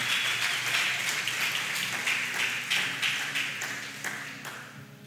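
Church congregation clapping hands in a dense, continuous patter of many hands, moderately loud and gradually fading toward the end, with a faint low tone underneath.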